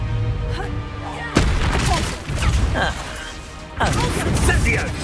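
In Hogwarts Legacy, an Incendio fire spell is cast twice, each time a sudden loud burst of crackling, roaring flame that cuts in sharply over a busy battle soundscape.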